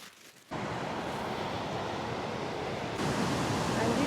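Wapta Falls waterfall in a pine forest roars as a steady, dense broadband wash that starts abruptly and grows slightly louder toward the end, heard alone without talk.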